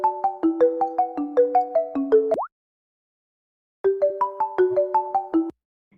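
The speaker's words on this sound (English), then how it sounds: "And Queen, I just called you too." A phone ringtone plays a bright repeating electronic melody in two bursts with a short silence between them, loud and alone, heard during a call.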